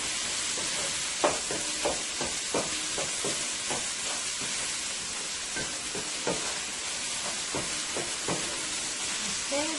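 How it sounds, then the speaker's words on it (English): Garlic sweating in a hot pan gives a steady broadband sizzle throughout, with scattered clicks and scrapes of stirring or utensil contact over it. "I'm going to let this fry cook for 2 to 3 minutes."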